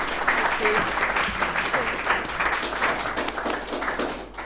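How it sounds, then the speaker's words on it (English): A round of applause from a lecture audience follows a talk, many hands clapping in a dense, even patter that holds steady for a few seconds, with a faint voice underneath. "So I think all that's left to do is give another round of applause to Dr. Emily Qureshi-Hurst."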